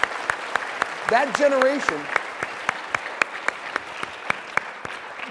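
An audience at a Medal of Honor forum claps in a sparse, uneven spatter of hands, while someone speaks over the applause at the start before it thins to scattered individual claps.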